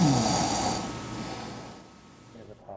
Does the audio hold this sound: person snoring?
yes